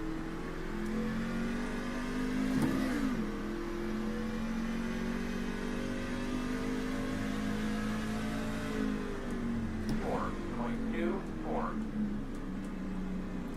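Race truck engine in a racing video game held in second gear at Lime Rock Park, a steady droning engine tone with a brief rev rise near the start and short pitch sweeps toward the end, loud and continuous.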